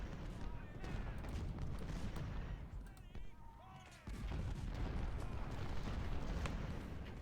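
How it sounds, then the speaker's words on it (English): Long-range artillery guns firing in Ultimate General Civil War, a rapid, continuous barrage of booming cannon shots layered into a dense roar, with a short lull near the middle before the firing resumes at full strength. "Make sure all my long-range guns are firing"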